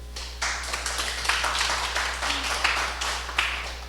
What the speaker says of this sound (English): I always find when people clap at the start of a presentation, they hope the speaker will be short.